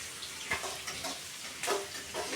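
Mustard seeds, curry leaves and green chillies fry in hot oil, a soft, close sizzle broken by a few sharper spluttering bursts, with no talking.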